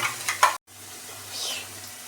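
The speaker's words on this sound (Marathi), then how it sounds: "आता आपण तरतरीची ग्रेव्ही भाजून घेऊया" Masala gravy of onion, tomato, garlic, coconut and coriander roasts in oil in a wok with a steady, soft sizzle and brief stirring scrapes, broken by a short silent gap.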